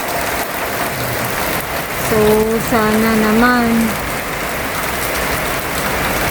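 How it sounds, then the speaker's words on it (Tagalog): Heavy rain pours steadily at a house construction site, a dense continuous hiss throughout, while a voice speaks briefly in the middle. "so ang lakas ng ulan."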